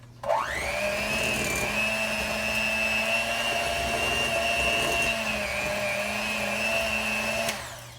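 An electric hand mixer whirs steadily at a high, even pitch for about seven seconds, starting with a quick rise in speed and cutting off cleanly near the end, close and loud with no talking.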